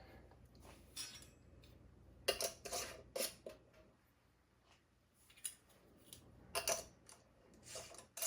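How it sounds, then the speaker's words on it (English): Metal lids and screw rims go onto glass canning jars of black beans and are finger-tightened, producing a series of close, sharp metallic clinks and scrapes in uneven bursts with quiet gaps between them. "I am going to add my lids, and then I'm going to add my rims, and I'm just going to finger tighten them"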